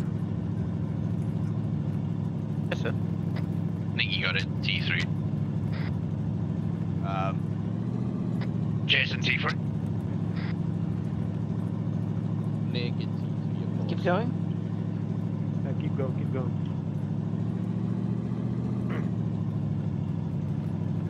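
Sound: vehicle engine driving in Arma 3 video game

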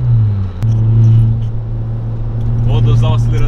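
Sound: turbocharged VW Jetta engine revving

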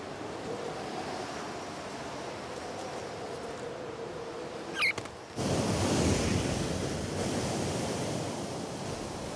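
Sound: gale force winds and surf at sea level

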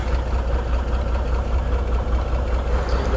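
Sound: truck engine idling

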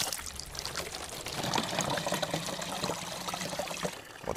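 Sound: clean artesian water running in the taiga

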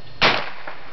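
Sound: Ruger 10/22 rifle rapid-fire magazine dump

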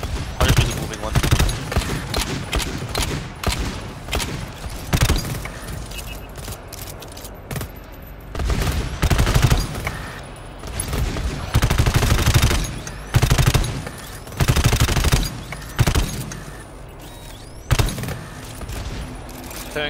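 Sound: gunfire shooting enemies in the video game GTFO

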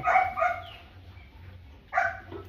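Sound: dog barking

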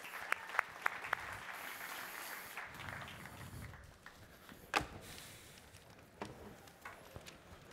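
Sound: audience applause for panelists

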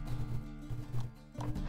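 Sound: horse hooves in the video game The Witcher 3

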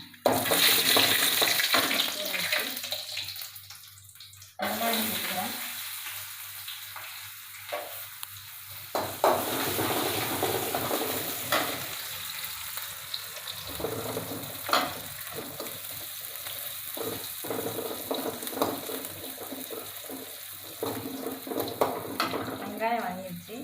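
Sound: fennel, cinnamon, cloves and bay leaf frying in oil

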